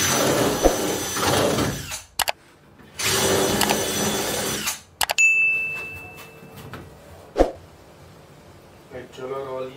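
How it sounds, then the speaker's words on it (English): Power drill whirs in two loud bursts boring holes into a boat transom during a stern rebuild, followed by quieter clicks, a sharp knock and faint handling noises. "I drill out all these holes"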